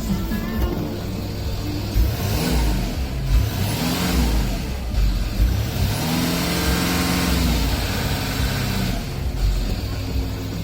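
A Land Rover Discovery common-rail diesel engine runs close by, a steady low rumble that swells and rises in pitch with several revs before settling again.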